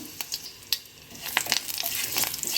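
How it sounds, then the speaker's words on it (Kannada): Mustard seeds and curry leaves sputter and crackle in hot ghee in quick, irregular pops that grow denser and louder toward the end. "ನೋಡಿ ಒಗ್ಗರಣೆ ಹಾಕ್ತಾ ಇದೆ"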